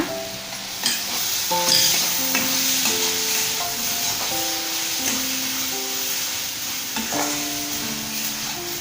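Cabbage with tamarind and rock salt sautés in a pan, a continuous sizzle broken by repeated scraping stirs and light clinks of a spoon against the pan.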